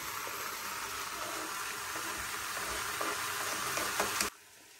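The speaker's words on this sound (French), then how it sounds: "Alors, on fait revenir avec la viande rapidement." Onion, vegetables and meat sizzle steadily in a pan while being browned for a Niçoise daube, a dense frying hiss that holds throughout before cutting off sharply near the end.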